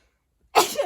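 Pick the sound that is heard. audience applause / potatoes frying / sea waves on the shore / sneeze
sneeze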